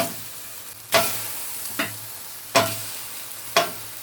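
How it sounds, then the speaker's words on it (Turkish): Peppers and tomatoes go onto a stovetop roasting grill, giving four sharp, close hits spaced about a second apart, each fading into a faint sizzle over a quiet background. "Biberlerimi sonra da domateslerimi içine atıyorum."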